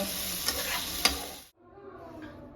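Eggplant slices with neem leaves frying in a pan: close, steady sizzling with a couple of sharp utensil clicks, then an abrupt drop to a faint, quieter sizzle.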